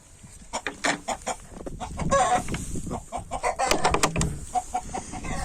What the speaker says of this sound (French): une poule cayenne, encore avec un coq